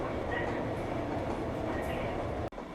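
Steady rumble and hiss of a Seoul subway train riding along, filling the car with broadband noise before a brief dropout near the end; low background voices are faint under the rolling din.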